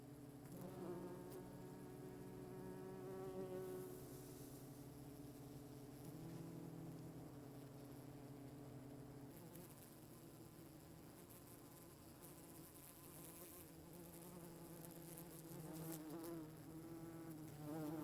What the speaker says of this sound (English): Here is a bumblebee fanning the nest entrance hole.